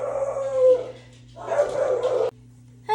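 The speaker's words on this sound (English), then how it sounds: "The dogs barking were some people trying to sell solar" Dogs bark and yip at a home, heard indoors at moderate distance in two bursts with short howling, whimpering tones, then a brief pause before another yelp.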